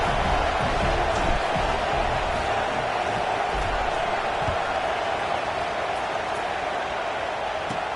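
Steady, dense roar of a stadium crowd in the NCAA 26 football video game, a continuous wash of distant voices with faint applause texture and no breaks.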